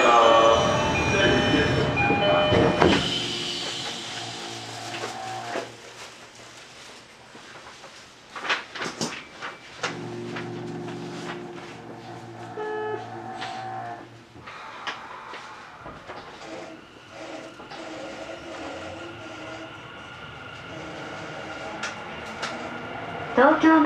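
A Tokyo Metro Yurakucho Line subway train pulls away from the platform. Its low rumble and rail noise run throughout, broken by clanks and squeals, while recorded announcements play over it.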